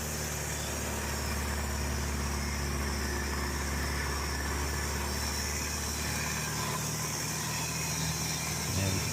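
A de Havilland Chipmunk's piston engine drones steadily through an aileron roll, a continuous loud cockpit hum with broadband wind rush and no pause.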